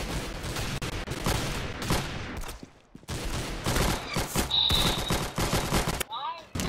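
Peppermint rifle firing in a Roblox gun game, loud sustained rapid bursts of gunfire with brief pauses between volleys.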